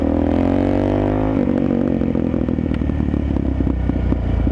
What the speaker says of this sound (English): I haven't had any more issues with it backfiring as much as it was before.